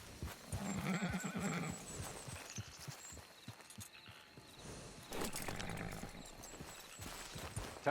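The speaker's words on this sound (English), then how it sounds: "It's your horse." Horse in the video game Red Dead Redemption 2 Online whinnies twice, with soft hoof clip-clops and breathy snorts close by, quiet overall and with no talking.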